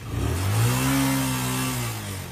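A new motorcycle's engine revs up in one continuous, rising throaty drone that holds and then eases off, loud and close, lasting a couple of seconds.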